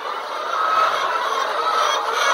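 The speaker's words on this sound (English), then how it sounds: "So you can see chickens are just climbing in there." A flock of chickens in the nesting boxes of a shipping-container coop for about 400 birds gives off a continuous, close chorus of clucking and murmuring with no voices.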